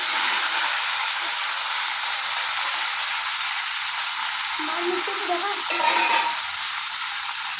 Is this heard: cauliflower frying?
yes